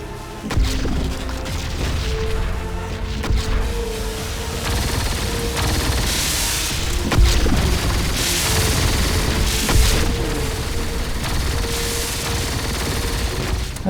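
Minos cannon firing in the video game Siege of Centauri, a steady barrage of booming shots and rumbling impacts layered over dense continuous battle noise and music.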